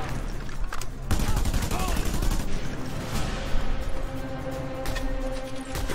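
Gunfire aimed at the player in Just Cause 2, bursts of rapid automatic shots and heavier blasts over a rumbling game soundscape, continuous and fairly loud, with a voice talking now and then.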